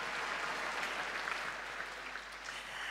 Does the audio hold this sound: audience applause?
yes